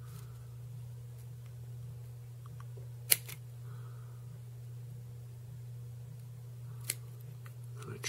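Scissors trimming fly-tying wing material on a trout dry fly, two sharp close snips several seconds apart over a quiet steady hum.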